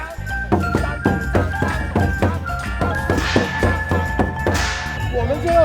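A traditional Chinese drum is struck in a steady run of heavy, booming beats, loud and close. Sustained tones and occasional cymbal-like crashes ring over the drumming, which goes on without a break.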